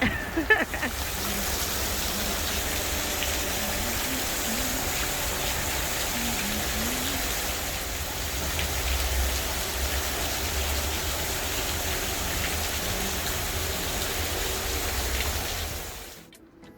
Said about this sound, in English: it's raining pretty hard and I'm getting pretty wet